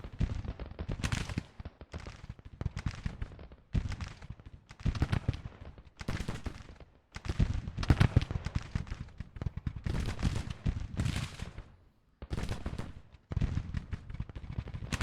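Massed musket fire and cannon blasts from a Civil War battle in the strategy game Grand Tactician, loud dense volleys in repeated bursts separated by brief lulls, with no talk over it.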